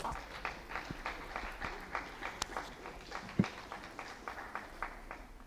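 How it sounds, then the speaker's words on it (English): Scattered applause from an audience at a school ceremony at Oshwal Academy in Nairobi, heard as faint, distant, uneven hand claps that come and go in soft pulses. "Ladies and gentlemen, let's continue clapping."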